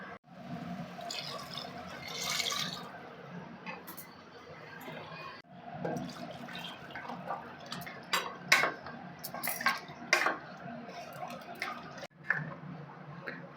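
Water is poured into a pot of hot soup in a home kitchen, a splashing pour mixed with clinks and clatter of pots and utensils, close and steady, with no talking.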